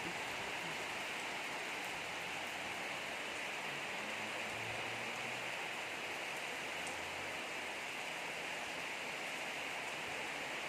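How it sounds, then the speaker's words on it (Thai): Rain falls steadily outdoors as a continuous, even hiss with no pauses, moderately loud and close, and no voices are heard over it. "ฝนตกนี่พี่น้อง"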